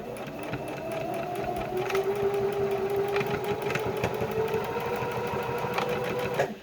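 A sewing machine runs steadily, stitching a fabric hospital face mask near the edge of its liner, a continuous close whirring with a tight mechanical rhythm and a few small clicks.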